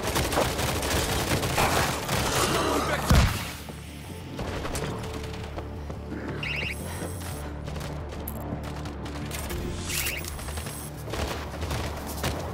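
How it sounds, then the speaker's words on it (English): An automated turret in a video game fires bursts of rapid gunfire, loud at the start, then continuing as intermittent shots over a game soundtrack, with no one speaking. "Auto turret is scanning."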